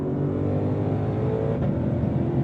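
A Ford Mustang GTD V8 engine revs hard and steadily near the listener, a loud continuous growl holding high RPM around 7,650 with a deep rumbling tone throughout.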